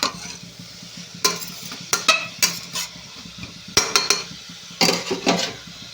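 Chopped vegetables frying for upma in a pan, salted, sizzling steadily while a spatula scrapes and clatters against the metal in irregular bursts, close and loud.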